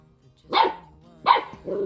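A puppy barks twice nearby, short loud yaps about three quarters of a second apart, followed by a softer whine-like yip.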